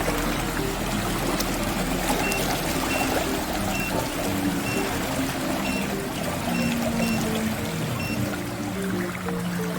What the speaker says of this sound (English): If you have a surfing board, you can surf here, because it's very big waves already